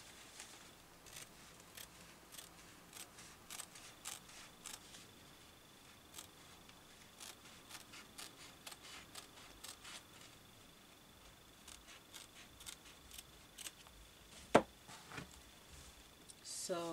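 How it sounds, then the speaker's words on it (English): Scissors snip through Ankara fabric while cutting out the front panel of a child's flare top, a run of faint, fairly regular close crisp clicks with a few louder handling noises near the end. "So I'm going to fold the shape and start my cutting from there."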